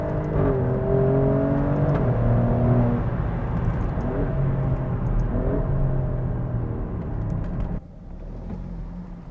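Alfa Romeo Stelvio Quadrifoglio, a 510 hp Italian performance SUV, accelerating hard with a loud continuous engine roar and rising harmonic sweeps as it climbs through gears, then easing to a lower drone near the end.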